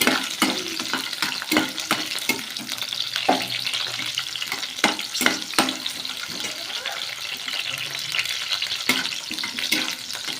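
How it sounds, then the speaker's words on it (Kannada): Thick-cut onion pieces fry in a pan, with steady sizzling broken by frequent scraping and stirring clatter of a utensil, fairly loud and close with no speech. "ದಪ್ಪ ಕಟ್ ಮಾಡ್ಕೊಂಡಿರೋಂಥ ಈರುಳ್ಳಿ ಹಾಕ್ಕೊಂಡು ಸ್ವಲ್ಪ ಫ್ರೈ ಮಾಡ್ಕೋಬೇಕು"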